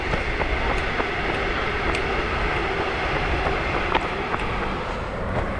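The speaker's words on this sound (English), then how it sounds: "The train to Jerusalem just sped past." A train to Jerusalem rushes past nearby along the Emmaus Trail near Abu Ghosh, with a continuous roar and rhythmic clicking of wheels over rail joints, loud and steady, no voices.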